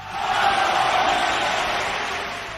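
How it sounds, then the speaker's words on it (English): A small audience applauding and cheering together, a dense, steady wash of clapping that swells briefly and then tapers slightly. "Give yourselves a round of applause"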